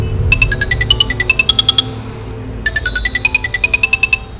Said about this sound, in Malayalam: അപ്പോഴാണ് കാശിയുടെ ഫോൺ റിങ് ചെയ്ത് വിഷ്ണുവിൻ്റെ കോളായിരുന്നു